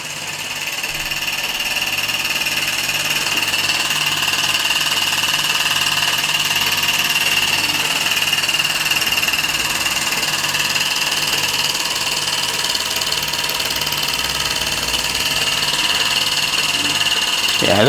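A 1946 Mamod SE1 model steam engine with a hot stamp brass frame runs steadily, giving a fast, even whirr with a thin, high whine over it, continuous and close, with no talk.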